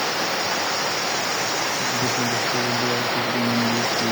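Torrential rain in Bangladesh keeps up a thick, constant roar throughout, while a few faint tonal hums or distant voice-like tones rise briefly beneath it in the second half.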